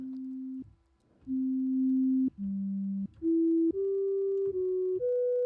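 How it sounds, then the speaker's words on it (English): An Ocean Swift Formula X synthesizer plays a pure, smooth sine tone, stepping through a series of sustained pitches that rise gradually, each held about a second, with no talking. "Now it's kind of pretty pure sine wave."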